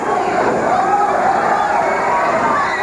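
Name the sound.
wrestling arena crowd cheering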